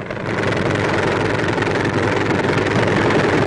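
A McDonnell XH-20 Little Henry helicopter, driven by ramjet engines on its rotor blade tips, roars loudly and steadily without pause, a dense rumbling drone close by with no voices.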